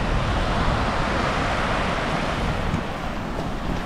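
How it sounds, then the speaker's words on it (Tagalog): Strong ocean waves crash and roar steadily at Tampad Beach in Catanduanes, a loud, continuous broadband surge with wind buffeting the microphone throughout. "Tapos ang lalakas ng alon."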